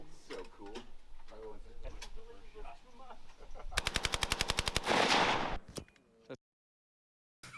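An AK-74U rifle fires a fast, loud burst of automatic shots at close range, preceded by people talking and followed by abrupt silence.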